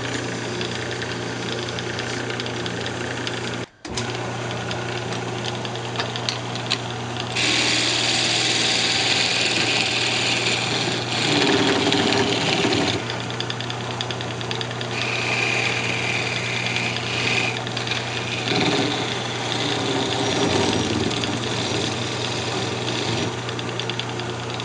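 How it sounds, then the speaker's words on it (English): A wood lathe running steadily at speed while turning a small redwood Christmas ornament, producing a continuous loud motor whine and hum with shifting tonal changes and occasional scraping from contact with the piece, with no voices. "I turn the lathe speed back up."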